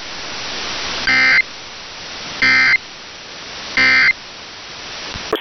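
Three short, harsh buzzing data bursts of an Emergency Alert System weekly test message sound at even intervals over a steady hiss of broadcast static, loud and without any speech.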